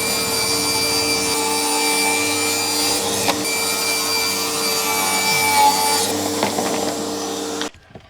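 A power saw rips white PVC pieces for interior window trim, a loud, continuous close-up whine with grinding and rubbing texture that runs for several seconds before cutting off abruptly at the end.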